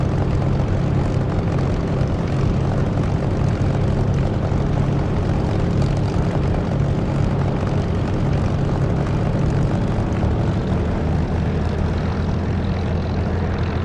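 Propeller-driven warbird engine, such as a P-51 or P-47, droning steadily in the DCS flight simulator game during takeoff preparation with flaps down, a loud continuous rumble with no speech.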